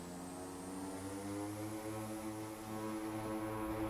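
Engine power rises on an AzurPoly OV-10 Bronco twin-turboprop in Microsoft Flight Simulator, a steady droning propeller hum with a high turbine whine slowly climbing in pitch, no talk.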